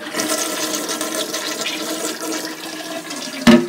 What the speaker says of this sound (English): And she needs to flush it.